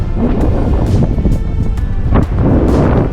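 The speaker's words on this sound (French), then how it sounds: "Je sens pas mal le vent de vallée." Steady valley wind in the Pyrenees mountains rumbling and buffeting against the microphone, a constant low roar with gusty swells throughout.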